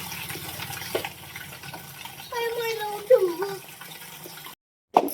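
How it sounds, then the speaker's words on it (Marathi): Drinking water runs from a tap in a village home, a continuous splashing stream whose tone rises as the vessel fills, with voices talking over it before a brief cut. "पाणी भरून घेते प्यायचं सगळं."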